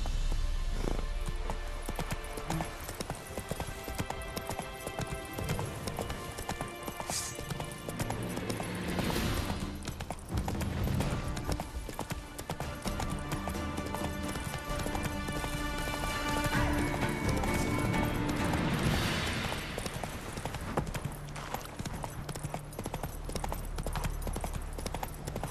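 Horse galloping in The Witcher 3 video game, rapid hoof clip-clop running continuously and close, with occasional snorts and a brief whinny over game ambience.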